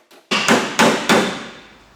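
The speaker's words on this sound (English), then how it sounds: "I gave it a bit of a touch up with a hammer and dolly just to even it out a bit" A hammer strikes cut sheet metal held against a dolly on a 1932 Ford roadster hot rod rebuild, giving one light tap followed by three loud, ringing metallic blows about a third of a second apart.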